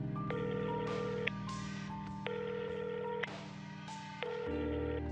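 A telephone dialing a call: a rapid series of clear DTMF keypad tones, several distinct beeps in quick succession, close and alone with no talk.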